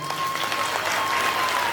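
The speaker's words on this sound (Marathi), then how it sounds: "सगळे ज्यांना वाटतं आम्ही भुयाच्या पाठीशी उभं राहतो टाळ्या वाजवून सांगा बरं." A crowd at a Home Minister ladies' event in Dharashiv claps together in a sustained, even burst of applause, with a faint steady tone ringing in the background.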